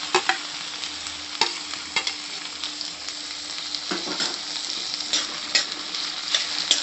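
Tomatoes and onions frying together for a mint vegetable pulao, a continuous close sizzle broken by repeated sharp scrapes and taps of a spoon stirring in the pan.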